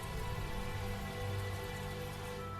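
Rain falls in the video game Tales of Zestiria as a steady, dense hiss of drops on surfaces, constant and even throughout with no voices.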